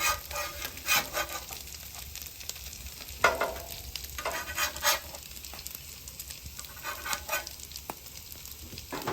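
Breakfast foods sizzle and fry on a hot Halo griddle, a steady crackling hiss with scattered pops and scraping stirs, close and continuous without talk.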